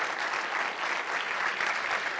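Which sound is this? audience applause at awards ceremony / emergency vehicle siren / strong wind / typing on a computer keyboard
audience applause at awards ceremony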